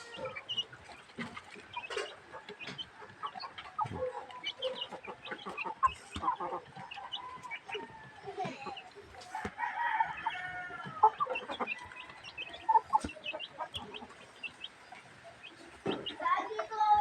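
Chickens on a backyard poultry farm cluck steadily, with bursts of crowing from large roosters, all fairly close and busy, and a person's voice occasionally audible among the birds.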